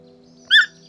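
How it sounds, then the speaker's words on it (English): A toucan gives a single brief, bright call at middle distance, a short harsh chirp standing alone over a faint steady background hum. "toucan,"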